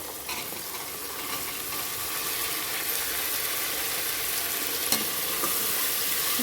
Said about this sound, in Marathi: मी वटाणा आणि बटाटा ते पण तेलावर जरा परतून घेते